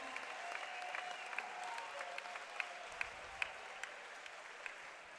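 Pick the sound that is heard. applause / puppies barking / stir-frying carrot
applause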